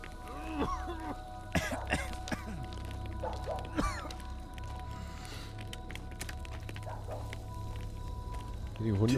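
A character coughs and clears the throat a few times in the horror game Maid of Sker, with game voices and ambient music underneath and a low drone throughout.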